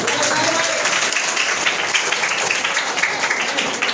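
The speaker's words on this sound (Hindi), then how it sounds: "एक दो बार ताली मारो।" Students at a workshop in a government school in Jitwariya clap loudly and steadily together for a few seconds, a dense continuous patter with voices mixed in.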